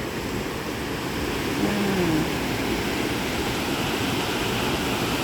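A waterfall along a nature walk in Cat Cat village, Sapa, roaring as a steady, dense rush of falling water, loud and continuous, with no voices over it.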